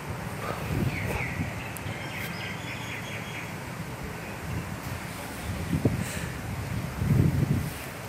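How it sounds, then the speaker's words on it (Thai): A strong cold wind blows through tall trees, producing a continuous rough rush and buffeting close to the microphone, with louder gusts surging now and then. "ไม่สามารถต้านทานลมได้เลย"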